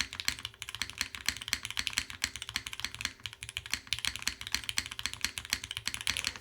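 Fingers type quickly on a mechanical keyboard, producing a dense, steady stream of close, full-sounding clacks with short gaps between bursts and no talking.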